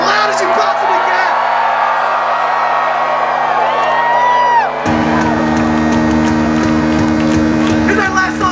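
Concert crowd at a live show screaming, whooping and cheering loudly and continuously, a dense wall of voices with shrill individual yells rising out of it and the roar swelling further partway through.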